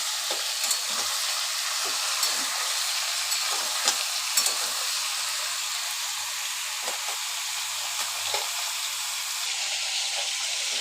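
Bottle gourd and potato fry with salt and turmeric in a pan, giving a continuous close sizzle with scattered spatula scrapes and taps from stirring, and no one talking.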